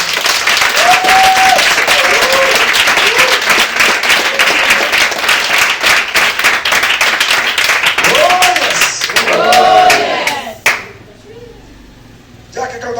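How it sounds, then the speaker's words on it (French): A church congregation applauds loudly and steadily for about ten seconds, with voices calling and cheering through the clapping before it cuts off into quieter room sound. "Acclame puissamment Jésus"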